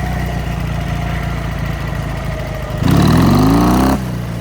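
A motorcycle engine runs close by with a steady throbbing drone, then surges in a brief rising rev lasting about a second before dropping back to its earlier running note.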